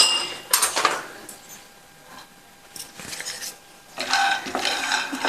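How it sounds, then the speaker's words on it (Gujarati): Peanuts roasting in hot oil in a pan while being stirred, giving scraping, rattling clinks of a spoon against the pan in two bursts with a quieter stretch between. "તો કન્ટિન્યુ હલાવતા જાય અને ઉપરની છાલ અલગ થવા લાગે ત્યાં સુધી સિંગને શેકી લેવાના છે"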